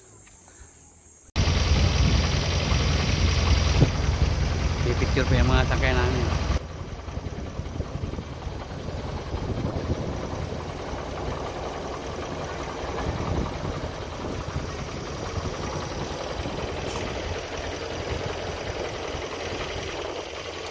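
A small outrigger boat engine runs steadily and loud at close range with a buzzy, knocking drone, first louder then settling slightly lower, while a voice speaks briefly over it.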